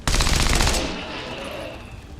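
A loud, rapid burst of gunfire from XCOM 2 hammers out for about three-quarters of a second, then gives way to a lingering rumble and a noisy tail.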